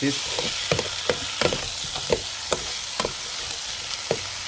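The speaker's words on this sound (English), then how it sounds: "this 호박볶음, zucchini stir fried" Sliced zucchini stir-frying for Korean squash side dish, a steady close sizzle broken by repeated scraping and tapping strokes of the spatula against the pan, with no talking.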